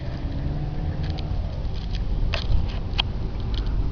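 A car cruising through the streets at 2 a.m., giving a steady low engine and road rumble with occasional faint ticks and rattles.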